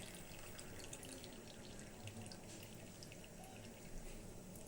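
Water runs steadily and softly into a cooking pan while sweets are being made, a faint continuous trickle with no voices.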